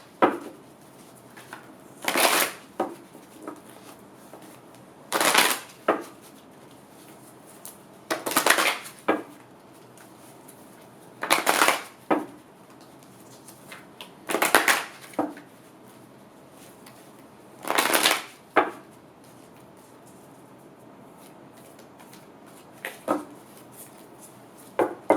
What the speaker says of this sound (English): I'm going to shuffle these 7 times